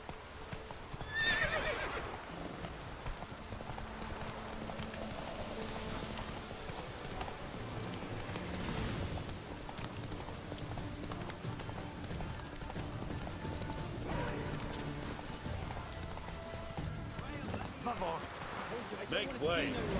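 Roach the horse gallops in The Witcher 3 with a continuous patter of hoofbeats, joined by an occasional neigh and faint rain over a background of game ambience.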